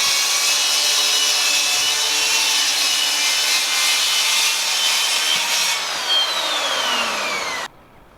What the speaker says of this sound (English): The OSB gets cut with a track saw